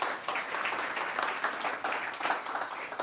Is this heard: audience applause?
yes